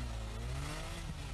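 Can-Am Spyder three-wheel motorcycle engine revving, a brief dense burst of throaty mechanical roar heard close and loud with no talk.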